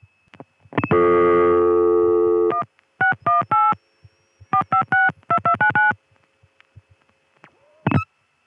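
A 1981 telephone network call being dialed: a long steady tone, then rapid bursts of multifrequency dialing tones in quick groups, followed by silence and a brief click-like signal near the end.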